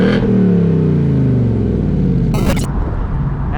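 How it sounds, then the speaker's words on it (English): A 2018 Ford Mustang GT's exhaust gives a deep rumble while stationary, holding steady and then swelling as the revs climb to high RPM, loud and close, with a brief high-pitched squeal partway through. "a sound clip of the exhaust note stationary at the higher RPMs"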